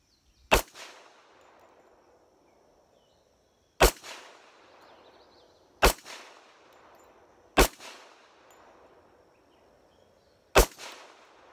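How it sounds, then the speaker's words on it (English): Five sharp 1911 pistol shots ring out at an outdoor range, spaced a couple of seconds apart, each a loud crack followed by a short decaying echo, with no talking in between. "You can definitely tell I'm not used to shooting my 1911 anymore."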